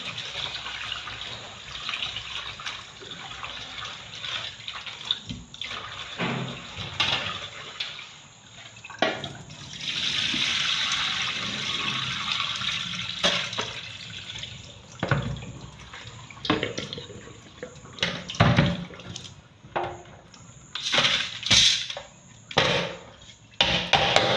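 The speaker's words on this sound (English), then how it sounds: "So I'm adding hot water." Hot water poured and splashed over rice in a home kitchen while making jollof rice, with running-tap gushes, intermittent clatter and knocks, and a sustained pour near the middle.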